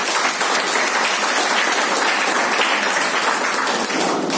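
Steady, dense applause from a seated audience at a distributor training session, loud and continuous throughout without a break and with no voices over it.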